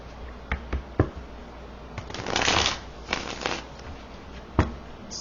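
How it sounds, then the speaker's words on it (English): Tarot cards being shuffled by hand, a run of soft papery riffles and taps with sharper flicks at irregular moments and a denser riffling burst in the middle, close and fairly quiet, with no talking. "let's get a little shuffle going"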